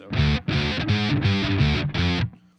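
Distorted electric guitar chugs through a riff in six punchy, evenly spaced bursts with brief gaps between, loud and solo, then falls silent.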